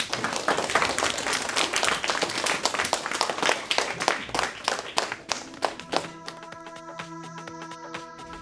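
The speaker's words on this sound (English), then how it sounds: "One more round of applause for all" An audience at a middle school event claps steadily for several seconds, a dense patter of hands that thins out and stops near the end.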